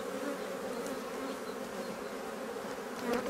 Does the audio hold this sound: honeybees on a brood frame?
yes